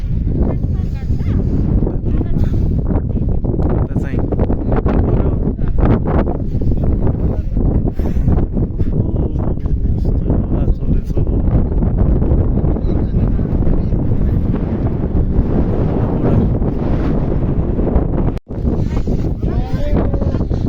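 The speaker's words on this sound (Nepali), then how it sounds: "हावा चलिरहेको छ यहाँ।" Strong, steady wind in Kagbeni, Upper Mustang, Nepal, roars and buffets the microphone throughout, a loud continuous rush with gusty fluctuations and a brief dropout near the end.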